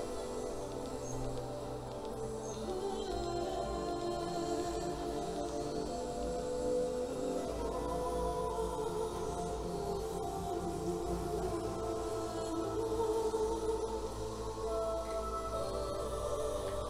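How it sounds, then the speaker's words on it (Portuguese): Television audio plays through an LG Ultragear GP9 Bluetooth gaming speaker as a steady, dense, somewhat muffled mix of music and sound, continuous and moderately quiet throughout. "Esse é o som da televisão."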